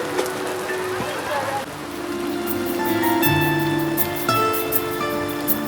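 Rain falls on Girnar mountain in a steady, dense patter that fills the air, with faint voices and tonal sounds underneath.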